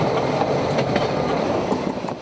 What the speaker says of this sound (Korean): 반대편인 하행선에서는 아직도 열차가 운행되고 있기 때문이다.